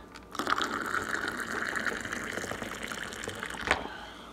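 Very hot water poured into a favorite cup over about 2 grams of dried Cordyceps militaris mushroom, a steady close gushing fill lasting several seconds with a brief splash near the end.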